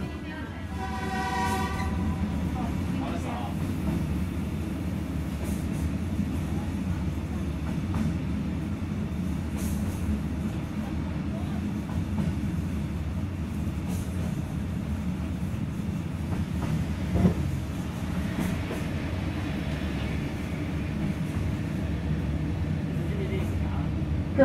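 A metre-gauge passenger train runs on the Kunming–Hekou line between Kaiyuan and Dazhuang in Yunnan, giving a steady, close rumble of rolling wagons throughout with a brief horn-like tone at the start and faint clicks of wheels over rail joints.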